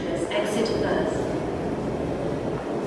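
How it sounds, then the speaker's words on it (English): An MTR M-train pulls into Tai Koo station, its traction motors giving a low steady rumble with brief rising whines, heard under nearby talk. "There's an M train coming in here. I already hear the motors."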